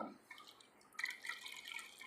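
Water pours into a container while a kitchen preparation is underway, a faint, steady trickle beginning about halfway through, quiet and close, with no voices.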